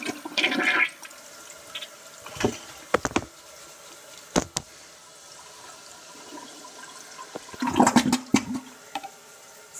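A toilet flushes in an empty bathroom while someone tries to unclog it, water rushing faintly beneath sharp knocks and clatters, with a louder swirl of water near the end.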